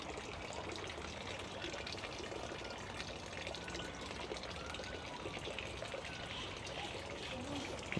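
Drinking water runs steadily from a tap at a mosque in Tashkent, a constant soft splashing trickle that continues unbroken, fairly faint and even throughout.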